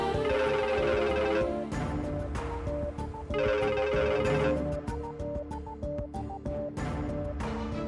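A phone rings with a melodic ringtone that repeats the same short musical phrases over and over at a steady, fairly loud level, with no voices over it.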